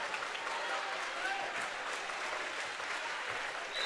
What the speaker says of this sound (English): Both student cheering sections have been going at it.